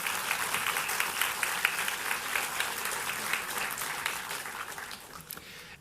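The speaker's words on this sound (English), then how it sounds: "so a round of applause to them." Audience at a public forum on basic income in Calgary applauding, a steady, moderately distant patter of many hands clapping that tapers off slightly toward the end.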